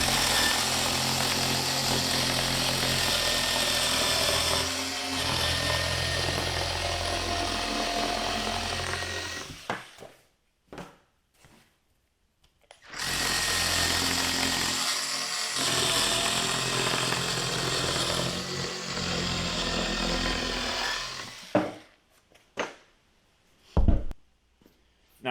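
A Skil 12V power cutter slices through a cardboard box, its motor whining steadily for about ten seconds, stopping, then running again for a similar stretch before a few short bumps and handling noises.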